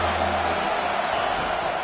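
A stadium crowd roars and cheers at a college football game between LSU and Clemson, a dense sustained wash of voices heard up close for a brief moment.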